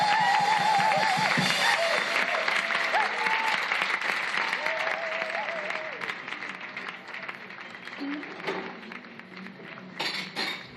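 A concert audience applauds, dense sustained clapping from a crowd with a few cheers, loud and close at first, then gradually thinning toward the end.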